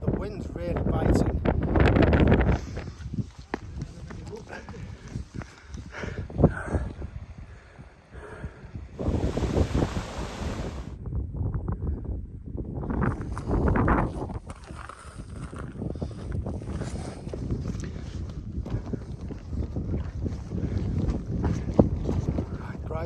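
Wind gusts buffet the microphone on open Lake District fells near Angle Tarn in cold, frosty conditions, a loud rumbling roar that rises and falls throughout with occasional voices beneath it.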